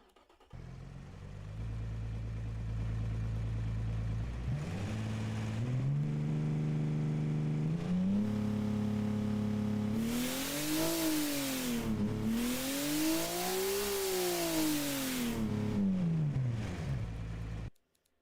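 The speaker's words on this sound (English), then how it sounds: "when that turbo spools up, when the turbos get going, she sounds real good" A twin-turbo 4-liter boxer six-cylinder making 838 horsepower revs up in BeamNG, its engine climbing and falling through repeated loud sweeps with a rushing turbo whoosh at high revs, then cutting off.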